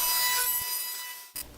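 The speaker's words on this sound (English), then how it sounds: "once that's finished, it's just a matter of sanding, and it's ready for branding" Steady broadband scraping of sandpaper on a wooden pistachio bowl, continuous and fairly close, easing briefly before a short final rub.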